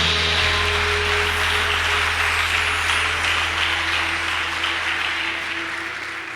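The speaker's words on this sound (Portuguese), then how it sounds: "Dê um aplauso ao Senhor pela palavra dele." A crowd applauds steadily and loudly for several seconds, the clapping fading slightly toward the end.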